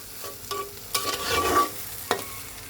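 Garam masala is stirred into a raw jackfruit and prawn curry, with a few scraping spoon strokes and short clatters over a low sizzle, close and fairly loud.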